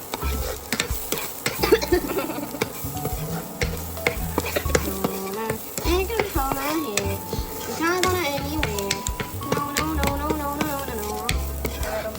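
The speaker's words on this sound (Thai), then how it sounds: "ผัดพริกกระเทียม" Chili and garlic are stir-fried in a pan by a young child cooking at home, producing a lively sizzle with frequent spatula scrapes and knocks while a child and an adult talk over it.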